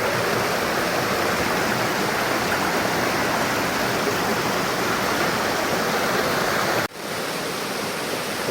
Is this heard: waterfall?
yes